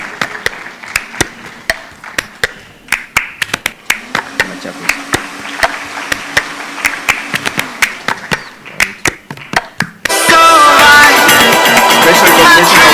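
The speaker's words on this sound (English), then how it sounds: "A round of applause for Professor Dr." Audience claps in sharp, scattered single claps for Professor Dr. Lydia Olaka at a recognition event, and the clapping gives way to loud, dense music near the end.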